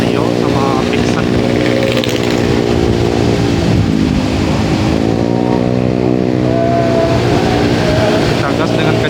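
Steady engine drone of Honda Beat, Honda Vario and Yamaha Vixion motorcycles cruising along a road at about 50 km/h, continuous and fairly loud throughout with a harmonic whine shifting slightly in pitch.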